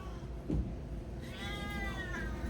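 A feisty cat meows during a bath in a tub, a few drawn-out, wavering cries rising over steady background noise, close and fairly loud.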